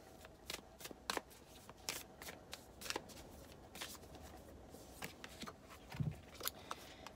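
Oracle cards being shuffled, soft papery riffles and taps in an irregular rhythm, close but quiet over a faint background hum.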